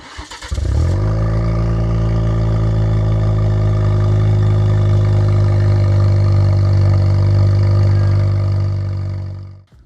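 A 2023+ Chevy Colorado pickup starting up and idling with no exhaust fitted, a loud raw, deep drone with a strong low hum, steady for several seconds before cutting off abruptly.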